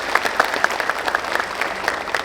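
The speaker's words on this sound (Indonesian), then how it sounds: "Tepuk tangan" A crowd at a farewell gathering at Gedung Pakuan breaks into applause, with dense, quick clapping and a few sharper claps standing out, moderately loud and continuous for the whole stretch with no talking.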